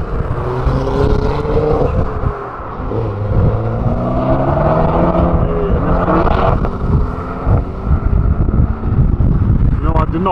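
Loud tuned cars, including Ford RS models, leave the TRAX track event at Silverstone one after another, engines revving and droning close by with shifting pitch, wind buffeting the microphone and voices talking over them.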